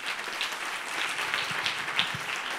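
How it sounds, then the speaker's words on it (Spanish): Audience applauding a child reader at a children's reading-aloud contest, a steady wash of many hands clapping at moderate level throughout, with no talk over it. "Un aplauso para ella."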